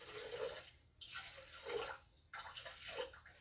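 Water poured into a pot for poached pears in red wine syrup, a pouring splash in bursts with short pauses, close and fairly loud, no one speaking.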